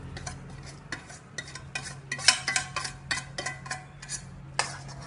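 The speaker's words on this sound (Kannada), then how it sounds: "ಮಿಕ್ಸ್ ಮಾಡಿ" Roasted semolina being stirred into sugar syrup for rave unde, with repeated scraping and clinking strokes of a spoon against the pan in an irregular rhythm, close and fairly quiet, with no talk.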